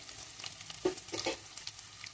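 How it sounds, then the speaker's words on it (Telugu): Chopped onion fries in a pan with a close, steady sizzle and the soft scrape of a spoon stirring through it. "కొంచెం వేగితే చాలండి"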